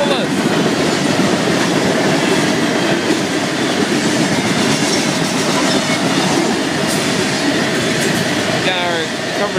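A Florida East Coast freight train rolls past close by with tank cars and Herzog gondolas, a loud continuous rumble of wheels and clattering cars with faint squeals near the end.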